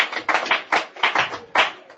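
Congregation clapping in church to acclaim the Lord, a run of irregular bursts of many hands, fairly close and loud, with no talking.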